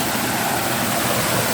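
A waterfall among banana trees in a natural setting, heard as a steady, loud broadband rush of falling water with no pauses or voices.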